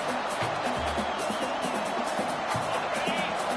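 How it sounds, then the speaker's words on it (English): Home crowd at a college football game roars steadily throughout as the defense tries to get off the field on third down, a broad continuous wash of cheering under a commentator's voice. "Here comes this home crowd as the defense tries to get off the field on third down"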